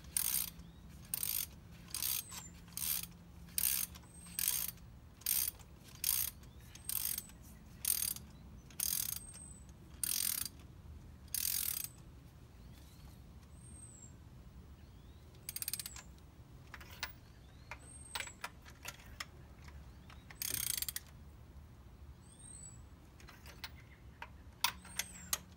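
A ratchet clicking in quick bursts while spark plugs are snugged down on a 1999 Honda Civic 1.6, close and crisp, with repeated short runs of clicks separated by pauses and occasional metallic creaks.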